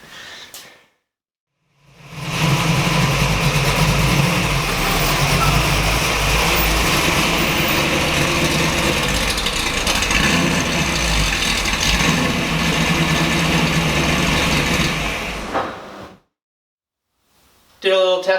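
Car engine idling and then revving after a spark plug change meant to cure a misfire, a steady loud broadband roar sustained for about fourteen seconds, close to the microphone, starting and stopping abruptly.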